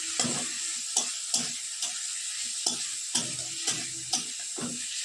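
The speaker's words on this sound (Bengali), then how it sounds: "আলুটা ভাজা বসিয়ে দিই।" New potatoes fry in a pan with a constant bright sizzle, broken by regular sharp scrapes and clicks of a spatula stirring every second or so.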